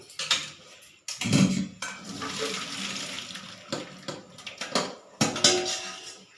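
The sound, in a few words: wok placed on stove for frying potatoes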